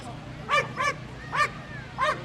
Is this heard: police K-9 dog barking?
yes